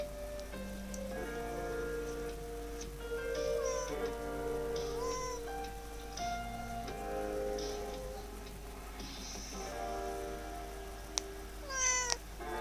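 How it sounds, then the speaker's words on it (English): A house cat meows several times at close range, short rising and falling calls over a musical background with rain-like patter, then a brief sharp sound near the end; no one speaks. "Hello again, kitty cat."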